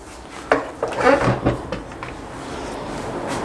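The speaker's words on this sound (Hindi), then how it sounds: "तो अभी मैं इसमें डालूंगा फिलिंग।" Chicken pot pie filling spooned into a puff-pastry-lined baking dish, with a few soft clinks and wet plops of a spoon against the dish, close and fairly quiet.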